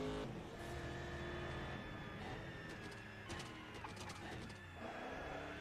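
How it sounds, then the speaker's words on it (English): Car handbrake in the racing game Race Driver: GRID, a tonal squealing and whining that sits over steady engine drone, with a few short bright bursts near the end. "I don't know why the handbrake makes that noise,"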